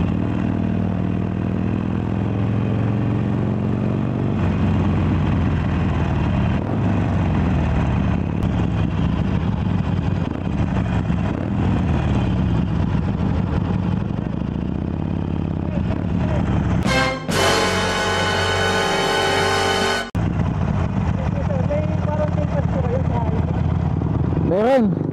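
A Harley-Davidson Iron 883 motorcycle rumbling steadily while being ridden, a continuous low engine drone with wind and clatter, interrupted midway by a few seconds of a loud, harsh burst of noise.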